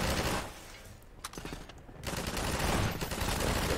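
Dense bursts of gunfire from Half-Life 2 crackle almost continuously, thinning briefly in the middle before a heavy, sustained volley resumes, loud and close with no voices.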